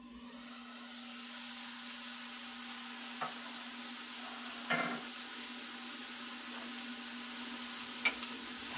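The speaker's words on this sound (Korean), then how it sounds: "강불에서 볶다가 뚜껑을 좀 닫아놓고" Chicken breast and radish stir-frying over high heat in a pan, a steady soft sizzle with a constant hum beneath and a few faint clinks of utensils, no talking.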